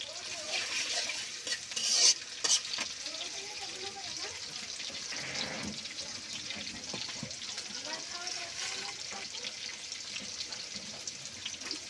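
Onion and garlic frying in a pan for a duck meat curry, a steady faint sizzle with occasional stirring clinks and kitchen noises running throughout.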